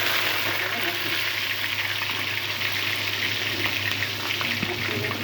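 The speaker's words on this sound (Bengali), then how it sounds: "এখন শুটকিগুলা তেলের মধ্যে দিয়ে দিচ্ছি" Dried fish (shutki) frying in hot oil gives a steady, close crackling sizzle that holds evenly throughout with no pauses.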